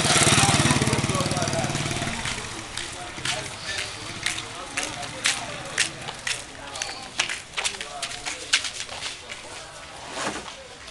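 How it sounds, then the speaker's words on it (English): A motorbike engine drones loudly at first, then fades into the distance, leaving scattered footsteps and sharp clicks, on a farm in Malawi. "I had the privilege to get on a motorbike"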